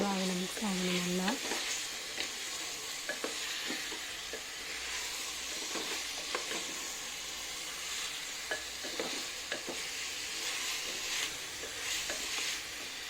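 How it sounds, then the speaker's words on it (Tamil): Chicken being stirred in masala while it fries for biryani: a steady, moderate sizzle with repeated scraping and stirring strokes at irregular intervals. "சிக்கன் நல்லா குக் ஆகிற மாதிரி நல்லா மிக்ஸ் பண்ணிடுங்க."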